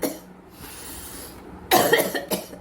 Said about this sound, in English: See, now I will show you coughing technique.